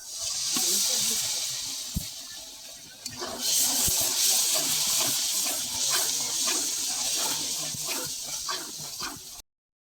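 Water poured into spices frying in oil for a spicy chicken bhuna, bursting into a loud, steady hiss of steam and sizzle that swells after a few seconds and then holds, close by.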